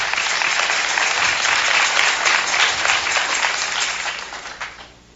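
A crowd claps in steady, dense applause that holds for several seconds, then fades away toward the end.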